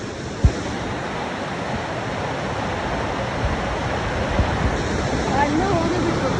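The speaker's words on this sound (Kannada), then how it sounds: "ನೀರು ಬೀಳ್ತಾ ಐತೆ" A waterfall pours in a continuous broadband rush, steady and fairly loud, with a brief knock near the start and faint voices toward the end.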